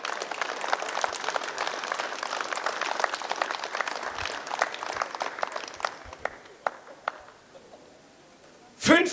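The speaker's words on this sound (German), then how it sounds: "Applaus" Crowd applause at an outdoor political rally in Eisleben, dense and steady clapping for several seconds that thins into scattered claps before a sudden loud burst at the end.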